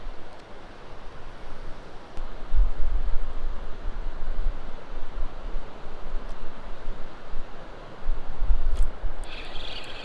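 Gusty wind blows by a rocky creek, buffeting the microphone in low, uneven rumbles that swell and ease, with no one speaking.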